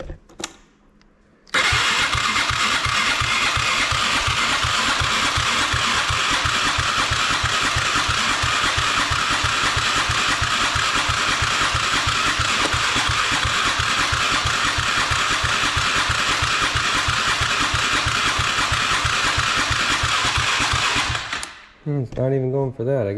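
A Polaris Sportsman 500 ATV engine cranks continuously for about twenty seconds without catching, a loud rapid rhythmic churn after a short quiet start, then it cuts off and is followed by a brief second burst.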